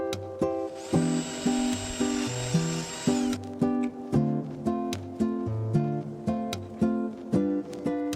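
A power drill bores a center hole through a part for a water pump pipe, making a steady whirring drone with repeated rhythmic pulses and a brief high-pitched whine early on.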